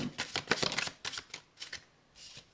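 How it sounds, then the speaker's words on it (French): Oracle cards being shuffled by hand give quick, close riffling flutters in short bursts, with soft taps and slides as cards are drawn and set down, and no speech. "Je vais prendre seulement 3 cartes pour celui-là."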